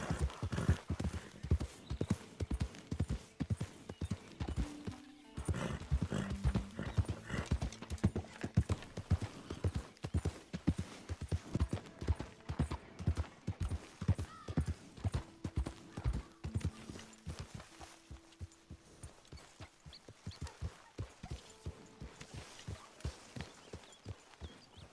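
Horse hooves clip-clop steadily at a walk while riding in Red Dead Redemption 2, a close, even rhythm that runs throughout, with brief tonal sounds in the game audio now and then.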